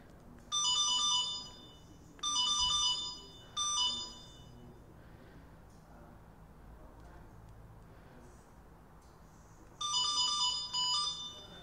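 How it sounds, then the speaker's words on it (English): A 1500W electric moped's alarm sounds in short bursts of bright, warbling beeps, three quick rounds, a pause with quiet background, then two more bursts near the end. "Let's see if we can get the alarm to go off."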